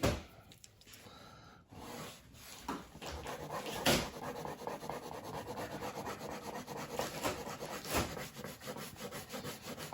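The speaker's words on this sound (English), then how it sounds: "The dogs are here, so if you hear something in the background, Albert's chewing on things" A dog gnaws and chews nearby, with scraping, rubbing crunches and soft panting in an irregular rhythm.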